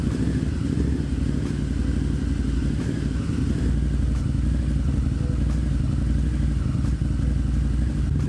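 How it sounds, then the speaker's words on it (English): A Harley-Davidson V-Rod Muscle with Vance & Hines dual exhaust idles close by in a steady, throbbing low rumble with faint mechanical clatter, holding an even pace throughout. "gave the V-Rod its first start up to me"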